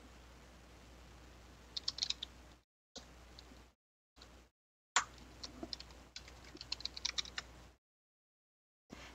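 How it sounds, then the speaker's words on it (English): Quiet clicking keystrokes on a computer keyboard come in short irregular bursts as a station ID and password are typed, broken by brief silent gaps, with faint background hiss. "Enter your Weather Underground station ID and password."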